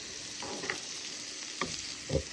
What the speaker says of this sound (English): We're going to stir it around a little bit so that the oil kicks into all of the zucchinis